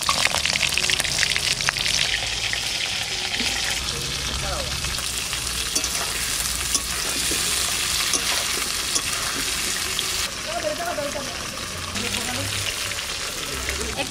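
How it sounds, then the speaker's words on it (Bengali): Pointed gourd pieces frying in a generous amount of mustard oil, giving a loud, dense, continuous sizzle close by with occasional stirring scrapes throughout. "এবার আমি পটলগুলো ভেজে নেবো আগে ভালো।"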